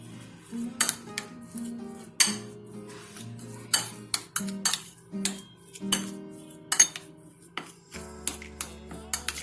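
A spoon clinks and scrapes against a bowl as boiled potato is mixed with salt and masala for water balls, giving irregular, close, quiet taps and knocks in a busy rhythm.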